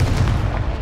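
A Confringo spell blast in Hogwarts Legacy lands as a loud, close, booming explosion, a dense low rumble that holds for under a second.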